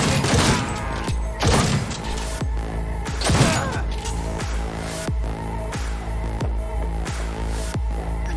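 Minigun turret fire in Cyberpunk 2077 rings out in dense, loud bursts, with heavy thumping impacts at a steady pulse-like rhythm and crashing debris in a chaotic firefight.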